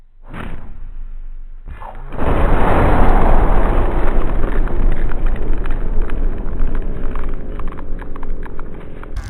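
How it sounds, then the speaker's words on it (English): A spell in the fantasy video game Arx Fatalis sets off a loud explosion: a sharp onset followed by a heavy, roaring rumble that sustains and slowly fades over several seconds. "Like an atomic explosion."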